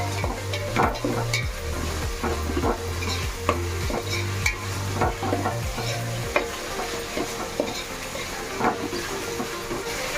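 Tomatoes fry and sizzle in a pan with ginger paste for egg biryani, a steady close hiss broken by repeated scraping strokes of a spoon stirring, with no talk.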